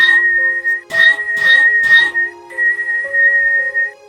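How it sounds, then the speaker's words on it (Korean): Eerie whistling heard indoors as a horror story sound effect: a sustained high whistled tone, broken by three short rhythmic bursts, then a long held note that slides lower, with no talking. "그날도 어김없이 밤이 왔고 이번에 휘파람 소리가 들립니다."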